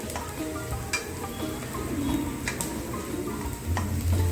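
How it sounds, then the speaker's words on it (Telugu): Finely chopped garlic roasts in oil or ghee in a pan while paneer is prepared, giving a quiet, steady sizzle broken by a few sharp clicks and utensil taps, with no talking. "ఒక పిడికెడు సన్నగా తరిగిన వెల్లుల్లి వేసుకోవాలండి. అది కొంచెం రోస్ట్ అవ్వగానే"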